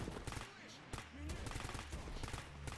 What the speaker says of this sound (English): And there is a lot of gunfire going on over there.